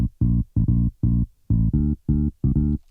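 A bass guitar sample with a steep high cut plays a short, choppy pattern of eight muffled, rounded notes in a bouncing house rhythm, dark and clean with no treble.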